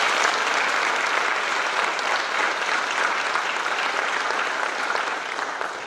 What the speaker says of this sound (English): we can get one more round of applause for all of those wonderful tributes